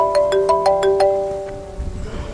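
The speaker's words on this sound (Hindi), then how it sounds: "अब किसका फ़ोन आ गया यार?" A phone ringtone plays a quick run of about six bright, repeated chime-like tones, then fades out as low rumbling noise takes over.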